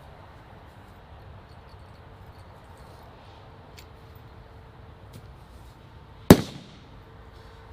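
A single sharp, loud bang from an Airsoft Innovations BANG 22 green cartridge firing outdoors, with a brief echoing tail, after several seconds of faint ambient background.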